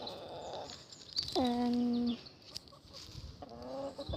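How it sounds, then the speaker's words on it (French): Hens cluck and call in a few short bursts, with one longer drawn-out squawk in the middle, moderately near among faint outdoor noise. "Donc on a beaucoup de poules."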